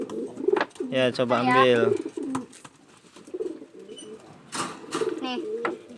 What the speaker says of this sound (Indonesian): lagi bermain burung merpati nih